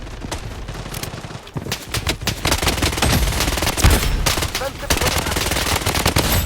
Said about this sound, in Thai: มีตัวกายยิงมาด้วยนะครับ